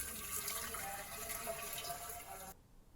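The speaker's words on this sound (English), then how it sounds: "So I'm starting with 2 liters of water here" Water pours steadily from a tap or jug into a large 10-liter glass jar to start a batch of rustic Japanese farmhouse sake, a continuous close splashing rush that cuts off abruptly near the end.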